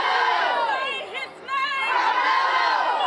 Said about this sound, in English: Supporters poured out of the courthouse cheering and gathered on the steps chanting Carmelo Anthony's name